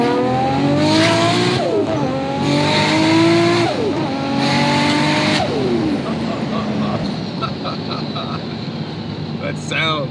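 A 750 hp 2.6-litre RB26-powered Nissan R32 GT-R accelerating hard through repeated gears, its exhaust roaring loudly up in pitch, dropping at each shift, then easing off near the end, heard from inside the car.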